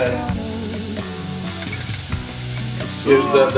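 Bacon fries in a pan for Portuguese rice and beans, a loud, close, continuous sizzle with crackly spits that swell near the end.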